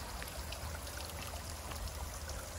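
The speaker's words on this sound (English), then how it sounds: "I came across this nice little waterfall." A small waterfall on the Appalachian Trail near the James River footbridge gives a steady, faint rushing and splashing wash of water, continuous and unbroken, heard alone with no voices.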